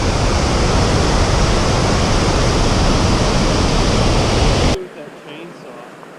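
Irish Falls, a waterfall where two rivers join in Yellowstone's Bechler Canyon, roars loud and steady, close at hand, then drops away abruptly to a faint distant rush for the last second or so.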